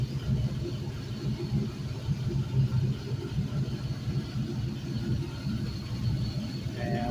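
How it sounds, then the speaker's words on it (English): A 5.3L LM7 V8 engine idles on a test run, a steady low rumble close by with even, throbbing pulses and no talking. "This one's set to idle at 650."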